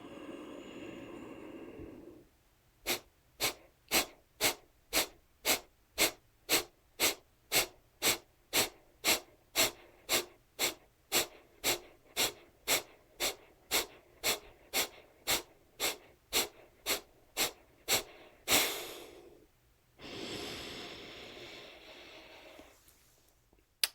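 Rapid pranayama breathing round: about twenty-five sharp, evenly paced forceful breaths through the nose, close and loud, followed by a long full exhale and a quieter breath afterward.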